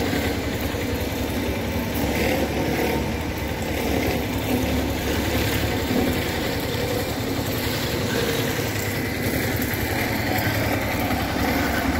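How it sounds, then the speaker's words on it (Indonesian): A small baby road roller's engine runs steadily and loudly throughout while laying hot-mix asphalt, with a constant rumbling drone and mechanical rattle, no voices. "Bisa dilihat cara bekerja mesin baby roller silang menggunakan aspal hot mix"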